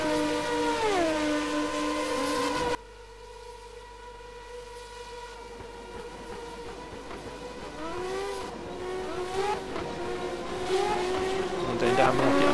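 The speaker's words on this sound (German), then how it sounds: "McLovin auf jeden Fall gibt hier ordentlich Gas" Race car engines accelerating in a racing video game set at a Belgian circuit, rising and falling whining revs shifting through gears, loud and continuous with a commentator talking over them.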